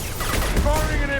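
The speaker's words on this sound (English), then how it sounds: "Firing an impact shot." An impact shot weapon firing in the Mass Effect video game, a quick rattling burst of shots with metallic mechanism sounds, loud and close, over background game noise.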